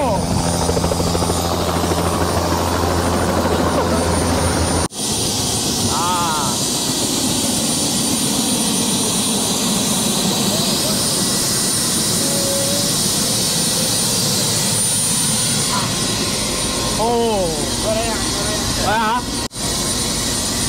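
A helicopter flies over the Statue of Liberty with a loud, steady rotor and engine roar throughout, while voices talk faintly beneath it and a few brief chirping tones come and go.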